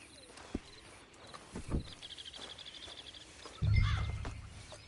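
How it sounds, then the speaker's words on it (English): Horse hooves clip-clop in a PS4 video game, a short run of soft, quick, evenly spaced hoofbeats at middle distance, set in a quiet outdoor game ambience with a few faint thuds and a low rumble. "Get on the horse when you're ready."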